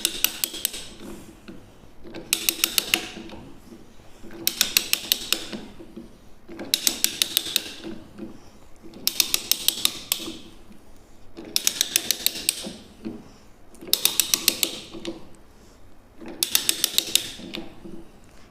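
GI pipe threaded by hand with a die and stock turned clockwise, giving repeated bursts of loud, rapid metallic ratcheting clicks, each lasting about a second and separated by short pauses, in a steady rhythm close by.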